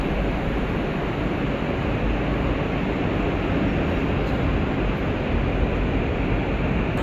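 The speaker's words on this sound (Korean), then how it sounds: "드디어 GTX-A 운정 중앙행 열차가 들어옵니다." A GTX-A train pulling into the underground platform at Seoul Station, heard as a loud, steady broadband roar of the approaching train that fills the whole stretch without letting up.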